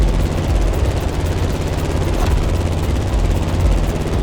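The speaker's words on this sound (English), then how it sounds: "The plane has taken off," A plane taking off in The Crew Motorfest racing game gives a loud, constant engine roar with a deep, rumbling drone. It holds steady throughout with no speech.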